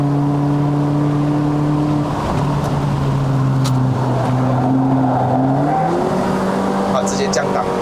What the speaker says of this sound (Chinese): 它直接降档，狠降档。